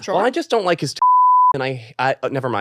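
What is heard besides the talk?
censor bleep over spoken words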